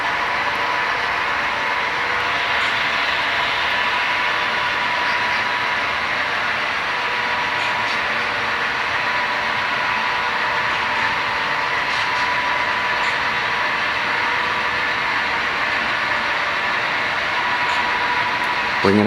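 A model C&NW freight train pulled by SD7 diesel locomotives runs with a bay window caboose, giving a steady, continuous rolling rumble and whir at moderate loudness throughout, with no clear breaks.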